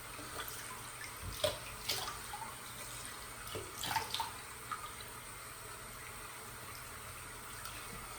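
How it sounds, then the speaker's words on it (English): Water running from a sink tap while a face is rinsed after a wet shave, a soft continuous stream broken by several brief splashes as water is scooped and thrown, close and quiet, with no voices. "I'm gonna kind of wash off my face"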